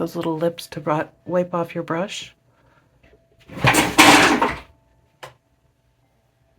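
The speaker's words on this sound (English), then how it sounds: "she's trying to jump on the chair and she knocked over the box that I had with all of the polishes" A cat knocks over a box of nail polish bottles, making one loud clattering crash that lasts about a second. A short knock follows. Someone talks just before it.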